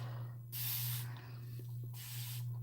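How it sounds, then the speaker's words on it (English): A spray bottle mists tea onto the scalp in two short hissing bursts, each about half a second, close and clear over a steady low hum. "I'm spraying some more tea on my scalp."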